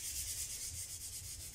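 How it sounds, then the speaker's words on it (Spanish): Sandpaper rubbed gently by hand across a wooden panel, a steady continuous scratchy hiss with a soft rhythmic back-and-forth swell, close and alone with no voices. "coges el retablo y con una lija lo lijamos suavemente"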